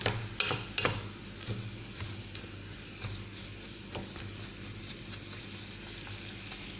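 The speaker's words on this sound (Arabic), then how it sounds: "كتبقاو تحركو تحركو حتى الدامج هاد الرز باش يجيش معجن كتبقاو تحركوه" Rice being stirred in a sizzling pot, with several spoon scrapes and knocks near the start and then a steady frying hiss underneath, close up with no talk.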